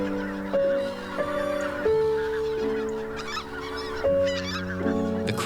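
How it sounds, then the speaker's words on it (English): Geese and cranes call at the Hantan River Basin in winter, loud repeated nasal honks overlapping in a steady chorus, close and prominent throughout. "At the Hantan River Basin, we saw various kinds of birds. There were cranes, geese, mallard ducks, crows,"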